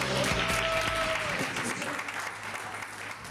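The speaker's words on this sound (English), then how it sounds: "give yourselves a round of applause" Crowd applause at a D.A. Music & Arts Fam'ly Tour show, loud at first with a held musical tone over it, then thinning and fading over a few seconds.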